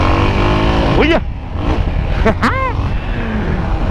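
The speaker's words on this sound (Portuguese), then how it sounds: "A moto não nega força pra subir no grau, não, tio." A Yamaha XT motorcycle engine revs hard during a wheelie on a street, with sharp rising and falling throttle bursts close by; a rider shouts and talks over the engine noise.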